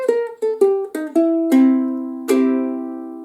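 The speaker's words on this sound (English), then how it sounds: "a cool little blues scale run you can use to liven up those 3-chord blues" Ukulele playing a blues scale run in C: five quick plucked notes stepping down, then two longer ringing notes that sustain and fade, with no voice over them.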